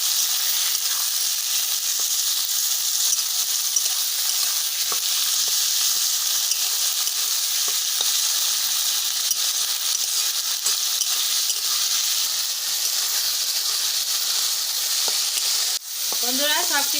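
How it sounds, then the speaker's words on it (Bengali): Chopped onion and tomato fry together in a pan for palak paneer, a steady close, loud sizzle with stirring scrapes, running almost unbroken throughout. "সাথে দেব পেঁয়াজ কুচি, টমেটো কুচি। এবার সব কিছু ভালোভাবে ভেজে নেব।"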